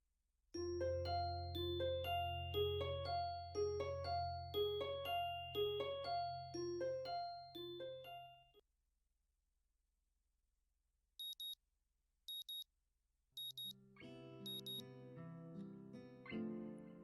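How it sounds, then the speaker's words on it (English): An in-game alarm clock from the Katawa Shoujo visual novel rings in a repeating electronic melody of bright beeps for several seconds, stops, then gives a few short high chirps before a second tonal chime pattern begins. "The sound of an alarm pulls me out of a fitful slumber and into the unpleasant state of wakefulness"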